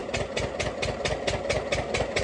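An irrigation pump engine, used to water paddy fields and driving its pump by a belt and pulley, chugs steadily in a regular pulsing rhythm, labouring under strain. It is close and fairly loud, with no talk.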